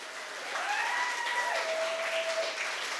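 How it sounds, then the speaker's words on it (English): An audience at a sobriety-themed comedy night applauds a comedian, with a rush of clapping that swells after a quiet start and holds steady, while a couple of sharp whistles ring out above it. "so give him a big round of applause"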